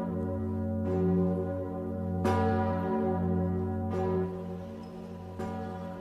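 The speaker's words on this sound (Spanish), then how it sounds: "El tañido de la gran campana de Notre Dame inaugura la celebración de la Pascua." Great bell of Notre Dame cathedral in Paris tolling for Easter, deep sustained strokes with rich humming overtones, about four strikes a couple of seconds apart, each blooming over a continuous ringing drone, loud and alone.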